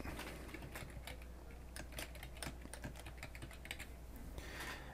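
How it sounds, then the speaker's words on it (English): Rapid keystrokes clatter on a computer keyboard as a note is typed, a close, steady patter of clicks over a low background hum. "So if I were to type a note,"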